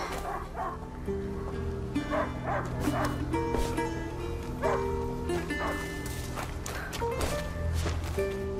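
Repeated dog barks and yips in the video game A Plague Tale: Innocence over steady game music and ambient noise, moderately loud and continuous throughout.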